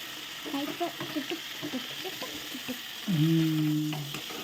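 Food fries in a pan with a steady background sizzle, broken by scattered small clinks and scrapes, then a louder rising hiss near the end as something new hits the hot oil.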